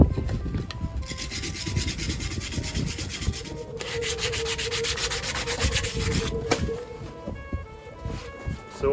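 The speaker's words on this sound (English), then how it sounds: "but it's a lot of scraping" Old varnish is scraped off a steering wheel being renovated, a steady rough rasping in repeated strokes, close and continuous.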